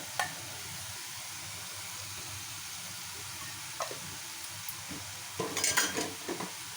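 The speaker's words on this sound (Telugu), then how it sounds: "పసుపు మొత్తం కలుపుకోండి కదా" Radish fry with turmeric being stirred in a pan, a steady low sizzle with scattered scraping and clinking of a spoon against the pan, louder stirring bursts near the end.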